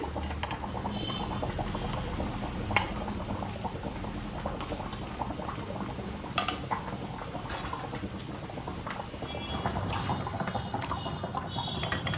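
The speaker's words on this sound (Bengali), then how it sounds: "এই যে পকোড়াগুলো এইভাবে ভেজে নিচ্ছি" Pakoras deep frying in oil make a steady, dense bubbling sizzle throughout, with a couple of brief sharper crackles, close and without speech.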